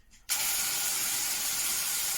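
Chicken of the woods mushroom dry frying in a hot pan starts with a sudden loud sizzle that settles into a steady, close hiss with no one talking.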